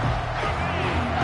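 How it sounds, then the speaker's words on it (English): Stadium crowd in a football video game, a brief, loud, dense roar of fans rising and cheering, filling the whole moment without pause. "This crowd rising up, sensing that its defense needs some help."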